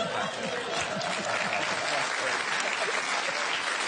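A studio audience on a comedy panel show applauds steadily, a dense, even wash of clapping with scattered chuckles, close and continuous throughout.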